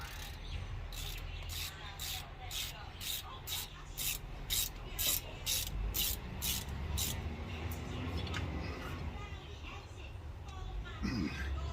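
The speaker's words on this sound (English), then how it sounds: "And torque these down." Ratchet clicking in a steady rapid series while front brake bolts are torqued down on a Toyota Previa, close and fairly loud over a low background hum.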